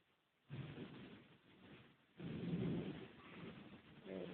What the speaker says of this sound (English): there's another thunderclap.